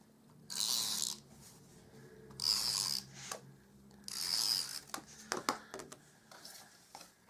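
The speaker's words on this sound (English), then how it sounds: "I'm going to stick some tape on there" A tape pen rolls adhesive onto layered Stampin' Up cardstock for an easel fold card, giving three short raspy bursts of dispensing followed by a quick run of sharp mechanical clicks, close and fairly quiet.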